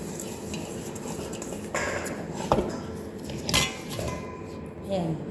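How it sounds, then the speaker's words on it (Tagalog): Spoon stirring a garlic, onion and lemon juice marinade for pink salmon, with close clinks and scrapes against a bowl, a few sharper knocks, and a steady kitchen background. "Ngayon paghalo-haloin ko na bago po ilagay ang isda."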